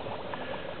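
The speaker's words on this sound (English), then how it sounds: "we're using one cell through the bubbler and coming into the cell under test in a tank of water" Air bubbles through a bubbler into a cell under pressure test in a tank of water, a rapid, continuous stream of soft gurgling pops, close and steady.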